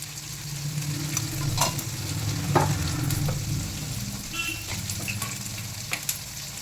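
Spices fry for lemon rice with ginger-garlic paste, coriander leaves, turmeric and asafoetida in the pan, giving a steady close sizzle broken by occasional scraping stir strokes.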